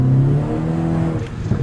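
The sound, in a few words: car engine revving with fitted exhaust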